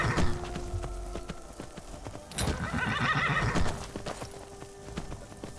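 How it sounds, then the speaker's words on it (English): Hooves clip-clop in a quick gallop and a horse whinnies loudly in the open wilds of Skyrim, the neigh rising midway over steady hoofbeats. "I want to ride the wild horse."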